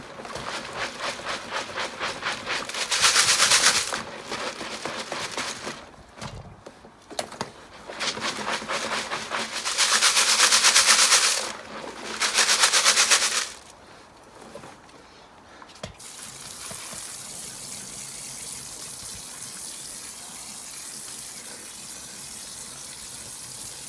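Stones are washed in a sieve inside a stainless steel washing-machine drum, with bursts of gushing, splashing water interrupted by short pauses, then a softer steady trickle and rattle to the end.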